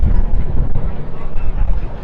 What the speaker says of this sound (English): Still very, very windy.